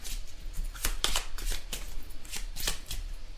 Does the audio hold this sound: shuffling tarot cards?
yes